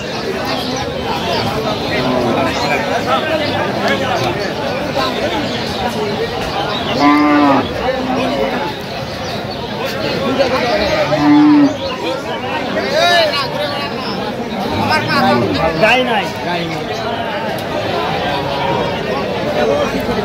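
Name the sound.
cows mooing at a cattle market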